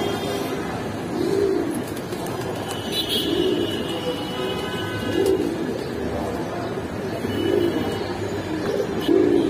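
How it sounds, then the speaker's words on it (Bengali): Pigeons at the Kaptanbazar pigeon market, soft repeated coos rising in a steady rhythm about once a second, over constant crowd and street noise with occasional faint chirps. "ভাই এইখানে এক পেয়ার কবুতর আছে"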